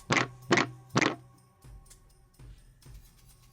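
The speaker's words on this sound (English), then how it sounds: "Then they heard 3 loud bangs at the front door." Three loud, sharp bangs in quick succession, like hard knocks on a door, then a few faint, softer thumps.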